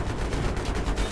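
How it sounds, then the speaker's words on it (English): Rapid bursts of Battlefield 3 gunfire crackle in a dense, continuous volley, loud and close with no pause for about a second. "See how I shot right through that building, got a shot on him"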